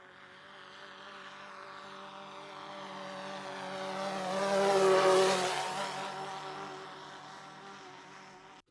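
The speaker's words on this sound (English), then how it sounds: "We also have some variations of the flyby sounds in here" A large quadcopter passes slowly in a flyby: a buzzing propeller whine swells gradually to a peak midway, then fades away evenly, with a steady pitch throughout.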